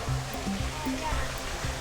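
A cafe waterfall in Nakhon Pathom gives a continuous broad rush of falling water, with a voice speaking over it nearby.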